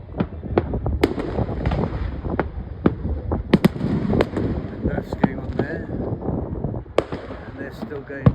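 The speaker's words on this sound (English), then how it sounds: "University and the True Blues come alive, that's their fireworks." Fireworks bursting at a celebration over a bay in Grenada, a series of sharp distant bangs and crackles at irregular intervals, with wind noise and people talking underneath.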